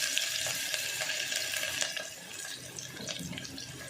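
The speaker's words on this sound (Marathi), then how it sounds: "तेल गरम झाले कढीपत्ता टाकते अगोदर कांदा टाकला आहे" Curry leaves hiss in hot oil in a pan where onion has already gone in, a base for Maharashtrian mutton rassa; a steady, loud broadband sizzle runs throughout with small crackles and no voices.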